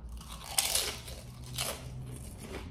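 Crisp pig lips are bitten and chewed close to the mic, producing a sharp loud crunch followed by repeated crackly chewing crunches.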